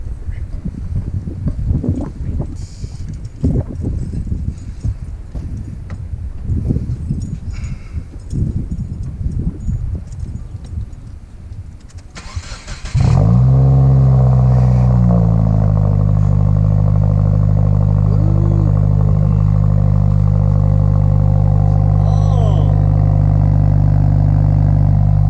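Vehicle engine with an angled-tip single-exit exhaust fires up on its first startup after a stretch of clattering workshop noise, then settles into a loud, steady, close idle that holds to the end.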